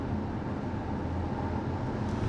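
The petrol engine of a 2018 Mitsubishi Outlander Hybrid drones steadily from inside the cabin, a low, constant hum mixed with road noise while driving, with no voices.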